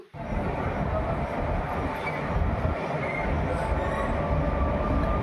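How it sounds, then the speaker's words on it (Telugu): A train at a railway station produces a loud, steady rumble that starts abruptly and holds at an even level, close and continuous. "ట్రైన్ అయితే వస్తుంది ఇక్కడ నుండి వచ్చేసి"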